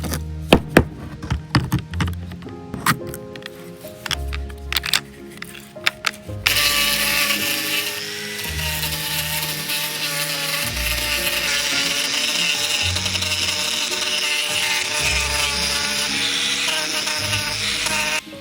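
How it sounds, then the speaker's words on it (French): Sanding disc on a power tool stripping old reclaimed bricks, a loud, continuous abrasive grinding whine that starts partway through and persists steadily, preceded by some clattering handling sounds. "j'utilise ce disque à poncer"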